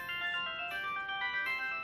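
A mobile phone ringtone plays alone, a repeating bright electronic melody sounding at moderate volume with no voices over it.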